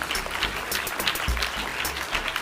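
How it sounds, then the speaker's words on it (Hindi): Close, lively applause from an audience honouring teachers at a Teacher's Day event at an Urdu middle school, a dense burst of clapping lasting a couple of seconds. "तो एक बार ताली हो जाए हमारे तमाम असातिज़ा के लिए।"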